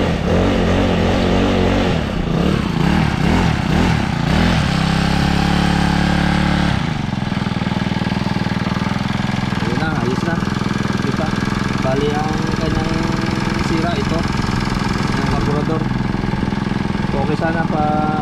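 A Honda GX35 grass cutter engine runs with its blade spinning, a loud buzzing two-stroke-style drone with a wavering pitch early on, then a steady hum as someone talks over it.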